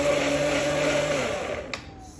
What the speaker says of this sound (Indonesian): Yuk kita blender yuk.